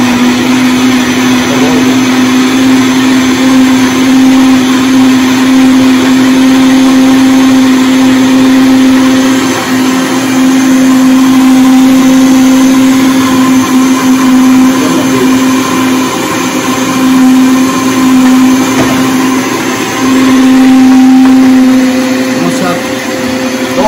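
A blender purees onion for shrimp cakes with a loud, steady motor whine and a sustained pitched hum that shifts slightly as the load changes. Speech runs over it at times.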